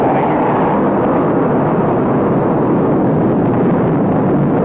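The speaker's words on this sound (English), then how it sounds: "You hear the afterburner hit there." A loud, continuous deep roar of a jet engine in afterburner, broad and rumbling, sustained for several seconds with no voices.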